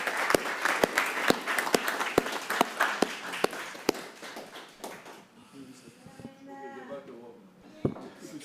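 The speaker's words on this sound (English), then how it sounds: "Let's give her a round of applause." A room applauds a woman's retirement at a committee meeting, steady clapping from a group that fades out after about five seconds, followed by quieter talk and a single loud clap.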